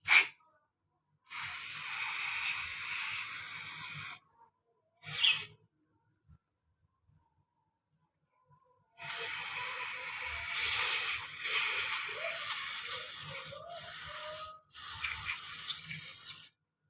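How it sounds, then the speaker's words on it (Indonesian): Aerosol cleaner sprays onto the throttle body of a Yamaha Mio Z 125 motorcycle in a series of loud, close hissing bursts: a long spray, a short puff, a pause, then two longer sustained sprays. "Cukup disemprot-semprot, bersihkan."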